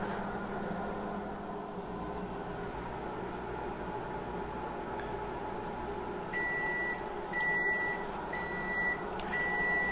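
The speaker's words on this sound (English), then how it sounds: "we're just gonna throw it in the microwave" Microwave oven running on high, heating growing media: a steady loud hum and drone throughout, with a series of short electronic beeps near the end.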